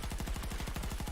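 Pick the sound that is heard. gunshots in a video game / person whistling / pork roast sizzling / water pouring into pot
gunshots in a video game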